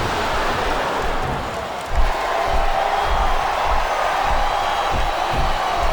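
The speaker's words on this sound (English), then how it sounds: "Sounds like this crowd's got something on their minds" Arena crowd murmur and cheering from the wrestling video game WWE SmackDown vs. Raw 2007, a steady broad roar with a small swell around the two-second mark, heard without commentary.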